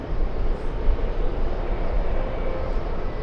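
An Air India airliner takes off from JFK airport, a broad, steady engine roar heard from a distance with deep low rumble and no other sounds standing out.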